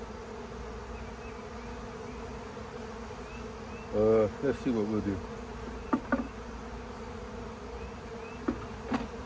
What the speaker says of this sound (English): Got a lot of bees in there.